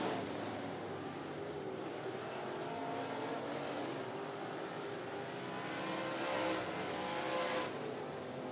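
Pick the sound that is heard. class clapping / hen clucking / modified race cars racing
modified race cars racing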